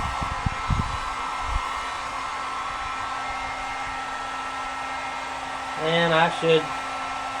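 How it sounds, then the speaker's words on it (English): A paint-stripping heat gun blows hot air while a plastic gas cap with a fuel gauge is repaired, a steady close whooshing hum throughout, with a voice speaking briefly near the end. "I'm using a heat gun used for stripping paint"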